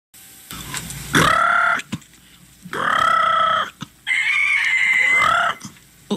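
Chickens cluck and a rooster crows in a radio drama, three long loud crowing calls close to the microphone separated by brief clucks and pauses, with no talking over them.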